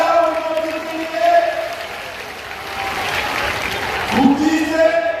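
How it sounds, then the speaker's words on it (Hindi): A political rally crowd applauds for Shri Vinod Khandekar at a gathering in Rajnandgaon, a moderate wash of clapping under someone speaking loudly over a PA with an echoing tone. "श्री विनोद खांडेकर जी ताली बजाओ उनके लिए"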